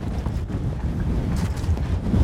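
Wind buffets the microphone on a windy mountain bike descent at Fort William, a constant loud low rumble and roar with gusty surges throughout, no voices.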